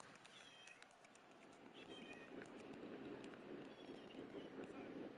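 A talkative cat meows at night, a few quavering cries indoors mixed with faint movement and low background noise.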